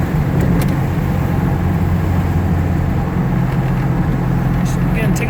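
A 1969 Karmann Ghia cruising on a road at around 45 mph, with a steady, loud, low engine and road rumble from inside the car, plus a voice talking.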